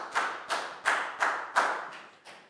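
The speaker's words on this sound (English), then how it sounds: "Big round of applause for Nadia." A small classroom group claps for a student, with six sharp, evenly spaced hand claps in quick succession, close and fairly quiet, with no talking.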